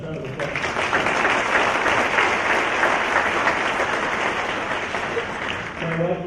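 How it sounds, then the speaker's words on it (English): A school hall of fame ceremony audience breaks into sustained applause, dense clapping that stays loud for several seconds and tapers slightly at the end. "How about a nice round of applause?"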